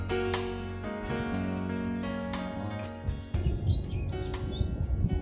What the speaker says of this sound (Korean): 해 뜨는 시간의 새소리가 유난히 분주한 것을 아실 겁니다